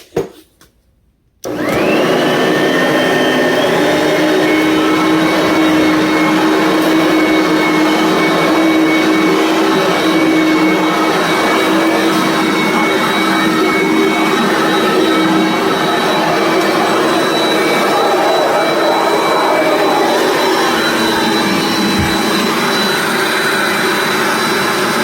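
An Aurik vacuum cleaner, a secondhand thrift-store find, switches on after a brief click and runs for over twenty seconds with a loud, steady whine and airy roar.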